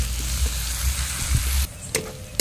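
Ginger and garlic fry in a hot pan with a dense, close sizzle that stops abruptly partway, followed by faint clinks.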